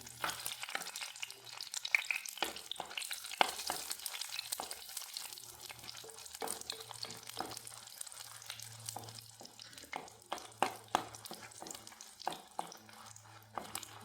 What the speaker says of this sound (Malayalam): ആദ്യമേ നമുക്ക് വറ്റൽമുളക് ഇട്ട് കൊടുക്കാം ഇത് നല്ലോണം ഒന്ന് വറുത്ത് പോരാം